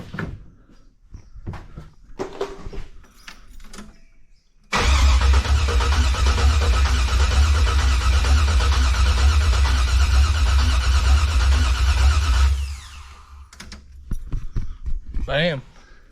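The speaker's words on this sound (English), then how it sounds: "Bam, it's cranking." A Chevy K1500 pickup with an LS swap engine cranks over loudly and steadily for about eight seconds, close by, between quieter stretches of faint knocks and movement before and after.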